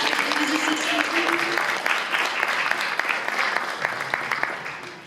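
Steady applause from the audience at a book signing and fashion show event, dense clapping sustained throughout under a faint voice.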